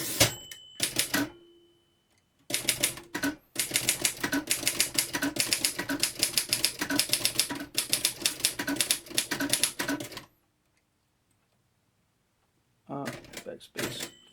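Rapid clacking of keys on a 1965 Royal Empress manual typewriter comes in dense bursts with brief pauses, close and crisp. A final burst of strikes follows a stretch of near silence.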